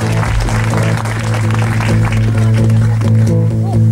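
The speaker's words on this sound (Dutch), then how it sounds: "Uw applaus alsjeblieft." Audience applause for a band on stage rising over loud sustained music with strong low tones, the crowd noise and band sound filling the whole stretch without a break.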